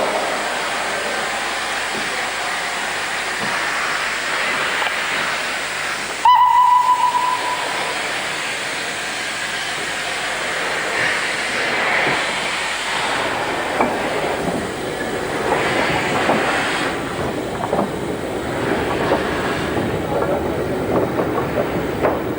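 A former North Eastern Railway 0-8-0 steam freight locomotive, number 901, moves off shed on the North Yorkshire Moors Railway. A short whistle sounds early, then low rumbling, hissing steam and soft chuffing carry at moderate loudness.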